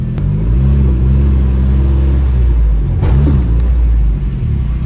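A little hot rod's engine idles with a heavy low rumble, then is blipped in two short revs that rise and fall, loud and close.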